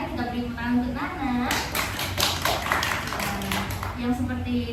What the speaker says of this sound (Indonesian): Kita beri tepuk tangan untuk Nana.